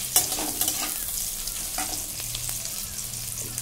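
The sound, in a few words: onion pieces frying in pan with meat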